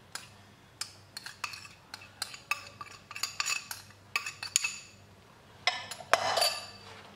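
A Mexican salad being mixed with sauce in a bowl, with quiet, irregular clinks and taps of a utensil against the dish coming in quick clusters, close by and with no talking.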